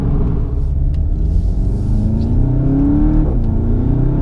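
A Golf GTI TCR engine roars under hard acceleration, heard from inside the car as a loud continuous low rumble with rising tone and a brief gear-change dip.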